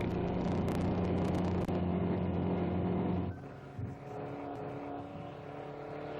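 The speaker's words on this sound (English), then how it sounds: "Bill France watches the Mustang go by" The 1962 Ford Mustang I concept car, with its 1.5-liter engine, passes at speed on the Daytona Speedway, a loud, steady engine drone that drops abruptly and fades to a lower, quieter hum as it moves away.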